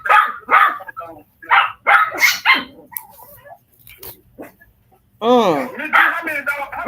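A puppy barks and yips in short, loud bursts among other dogs in a yard, with rising whimpering cries near the end, close to the listener.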